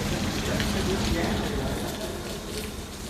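Rain falling on the open outside deck of the DFDS ferry Nordic Crown departing Copenhagen, a dense, steady hiss of drops with a rumble beneath and no clear talk.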